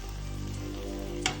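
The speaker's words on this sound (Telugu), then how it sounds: "టమాటాలు ఆల్మోస్ట్ వేగిపోయింది" Tomatoes fry in a pan, a steady soft sizzle with a faint low hum beneath and one brief scrape near the end, no voices.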